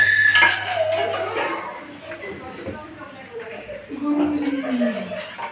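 Metal pots and utensils are shifted aside at home while things are set out for a Mata Rani celebration, making close clattering and clinks that run under steady talking.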